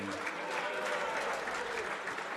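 At a WDF World Darts Championship session, the crowd breaks into steady, moderately loud applause after a treble 20, a continuous wash of clapping with some crowd murmur mixed in.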